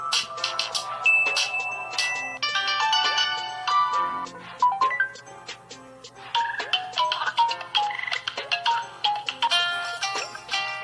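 Several LG Optimus V mobile phone ringtones play one after another, chirpy electronic melodies and trills sounding close and loud, with short pauses between them.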